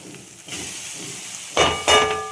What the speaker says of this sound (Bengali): এবার আমি চাউমিনগুলো দিয়ে দেবো